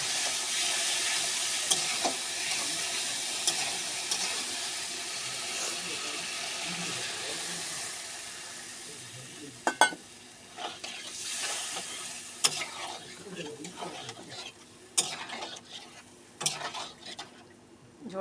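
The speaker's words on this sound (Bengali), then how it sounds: "এবার জলটা দিয়ে দেবো।" Water poured into a pan of sizzling masala for a soya chunk kofta curry, broad hiss and bubbling fading as the pan settles, then intermittent clinks and stirring knocks.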